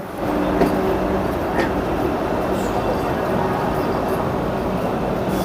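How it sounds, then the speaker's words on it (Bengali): A train pulling out of platform 7 at Howrah station gives a steady, loud rumble with faint metallic squeals and clanks, continuous and close, with no talk over it. "আর ট্রেন আমাদের হাওড়া স্টেশনের 7 নম্বর প্ল্যাটফর্ম থেকে ছেড়ে দিল।"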